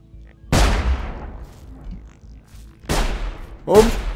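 Gunshots in the video game Sir You Are Being Hunted: three loud booming shots with long decaying tails, one early and two close together near the end.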